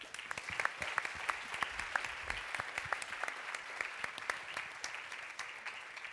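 Faint, scattered applause from a modest audience at a climate change conversation event, individual claps audible in an uneven, fairly quiet patter.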